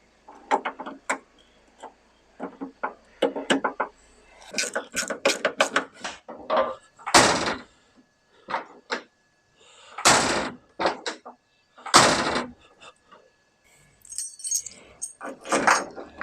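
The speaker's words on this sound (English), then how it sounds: "Now we get the door handle fitted." On a 1971 Toyota Celica, the door handle, lock and door are worked over and over, giving close metallic clicks, latch clunks and key-like rattles at an uneven pace with short pauses between actions.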